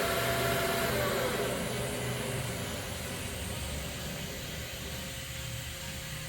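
Spindle of an OMNITURN GT-75 CNC gang lathe running at 2,000 RPM, a steady loud whirring hum with a high whine, continuous and slightly easing over the span.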